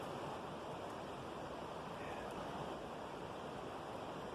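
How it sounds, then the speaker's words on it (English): The Sultan River flows through a forested canyon with a soft, continuous rushing wash, steady and distant, with no voices or other sounds over it. "sound of the river."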